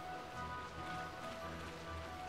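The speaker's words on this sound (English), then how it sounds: "Ooh, it's cool and rainy." Steady rain in Final Fantasy 12 hisses evenly throughout, a dense wash of drops heard without speech and joined by low rumbling game ambience.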